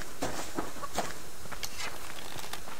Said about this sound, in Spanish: Gallina, sabes que eres mía.